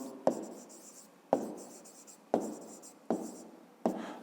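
Pen strokes scratching across paper during a fifth-grade maths exercise, five distinct bursts each starting with a sharp tap and trailing off into scratchy writing, close and fairly quiet with no talk.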